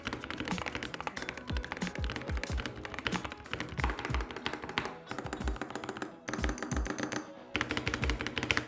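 SteelSeries Apex Pro gaming keyboard being typed on quickly and steadily, a dense, close run of clicky keystrokes with occasional heavier thunks from larger keys, with no one talking.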